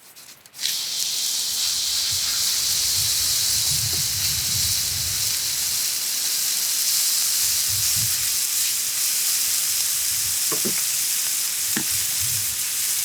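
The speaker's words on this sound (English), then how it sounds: "let's put these burgers on" A5 Japanese Wagyu cheeseburger patties sizzle steadily on a grill, a loud continuous hiss and crackle with occasional soft clinks and scraping from cooking tools.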